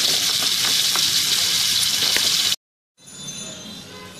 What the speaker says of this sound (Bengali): মাংসকে কিছুক্ষণ আমি একটু অয়েলে রান্না করছি